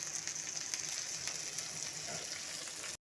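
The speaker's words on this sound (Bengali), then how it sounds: "এখন সমস্ত কিছু মশলার সাথে ভালো মতো করে আমি কষে নেব।" Ground spices, chili powders, poppy-melon seed paste and tomato ketchup frying in oil for Bengali pui kalia, a steady soft sizzle that cuts off abruptly at the end, close and fairly quiet, with no talking.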